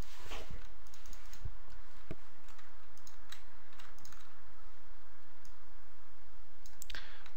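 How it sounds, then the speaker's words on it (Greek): A computer mouse clicking during image editing, a run of sharp, close clicks at irregular intervals over a quiet background, with no speech. "Κάνω κλικ στο OK και βλέπουμε πλέον κάτι διαφορετικό."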